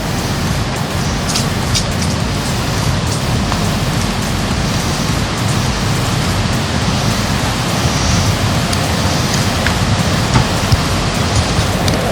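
Waterfall in Namibia giving a loud, steady roar of rushing water that fills the whole scene without a break, broad and constant with no talk over it.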